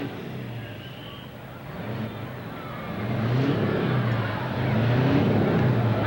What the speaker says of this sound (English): He's got the RPMs up. The clutch is starting to come out.